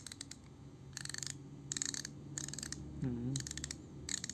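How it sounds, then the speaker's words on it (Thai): Rapid mechanical clicking from a Duratech ratcheting screwdriver in several short bursts, separated by brief pauses, close and fairly quiet, with a low whirring motor tone in the middle. "นี่ไขควงไฟฟ้าเลยเนี่ย เสียงประมาณนี้"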